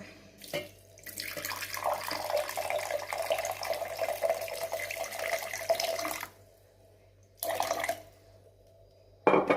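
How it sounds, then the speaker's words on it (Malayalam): Water pours into lemon juice and sugar for a welcome drink, a steady splashing stream for several seconds that stops, followed by a shorter second pour and a final brief splash, nearby and moderately loud. "ആവശ്യത്തിനാണ് വെള്ളം ഒഴിക്കുക."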